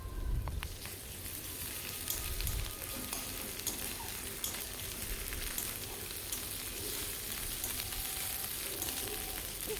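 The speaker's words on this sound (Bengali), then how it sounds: "এবার দিলাম আদা বাটা" Ginger paste sizzles steadily in a hot pan while a prawn curry is cooked, a continuous crackling hiss with a few low stirring knocks near the start and no voices.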